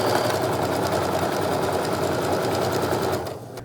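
Sewing machine stitching a quilt seam at steady speed, a fast, even mechanical whir with rapid needle ticks, close and continuous before easing off and stopping near the end.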